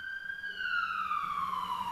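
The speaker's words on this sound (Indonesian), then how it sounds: "kalian dengar sirene ambulan enggak teman-teman?" An ambulance siren in a Roblox game wails as it passes, a loud single tone sliding steadily downward in pitch, close and alone.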